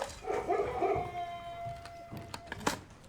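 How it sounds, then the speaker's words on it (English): A dog barks inside the video game Blue Prince: a special bark signalling that a door is locked, heard as a short howl-like, yipping cry over faint ambient game sound. "Did you hear that barking then?"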